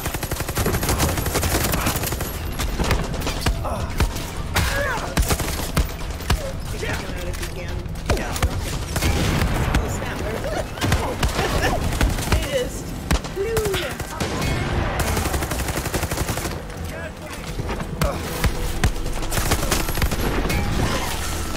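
Gunfire from the player's gun in Far Cry 6, heard as sustained, loud, dense bursts of rapid shots lasting throughout, with speech mixed in at times.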